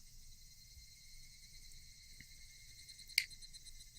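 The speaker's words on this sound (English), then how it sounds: "Only the cry of the cicadas remained annoyingly loud." Game sound effect of cicadas crying, a loud continuous high buzzing drone that holds steady throughout, with one brief sharp click near the end.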